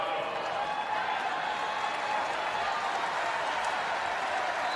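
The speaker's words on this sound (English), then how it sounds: "Crowd trying to get the Huskers back into this as the Hawkeyes lead it 9-6" A volleyball crowd at an Iowa vs Nebraska women's championship match keeps up a dense, steady roar of cheering and applause, mixed with a commentator talking over it.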